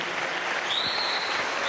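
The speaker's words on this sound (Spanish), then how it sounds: "Un aplauso desde aquí." A studio audience gives brief, steady applause, a dense wash of clapping with no voices over it.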